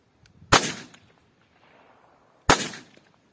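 A SUR starter pistol fires two blank shots about two seconds apart, each a loud, sharp crack with a short ringing tail, and a quiet pause between them.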